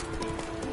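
Roach the horse gallops in The Witcher 3: Wild Hunt on PS4, a steady close clip-clop of hooves filling a very short burst under game ambience.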